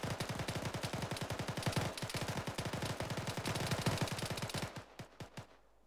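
Rapid automatic gunfire from a Marines versus Islamic State combat video game, a long run of dense, loud bursts that thins to a few spaced single shots at the end.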